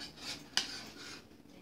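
A mini microwave cheesecake turned over onto a dish, a soft rubbing scrape and a single small clink of dish against dish, close and quiet, with no voices.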